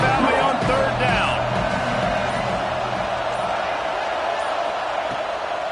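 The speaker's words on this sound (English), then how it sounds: "Here comes the noise from this big crowd in Happy Valley on third down." A big stadium crowd at a college football game in Happy Valley roars on third down, a dense sustained wall of distant cheering and noise that holds steady throughout, with no clear talk over it.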